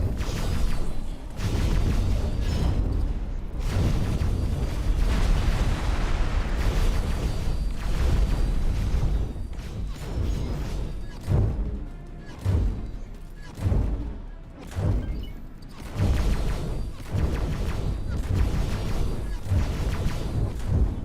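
Heavy booming torpedo blasts strike a spaceship in X4: Split Vendetta, a dense, continuous rumble of repeated explosions with sharp transient hits throughout, loud and close.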